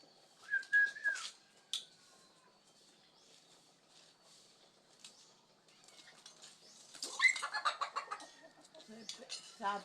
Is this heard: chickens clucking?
yes